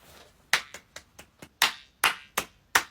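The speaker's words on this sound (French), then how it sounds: "Applaudissez." A small group claps on cue in a casual comedy skit, giving about ten sharp, uneven claps over a few seconds with short gaps between them, with no talking.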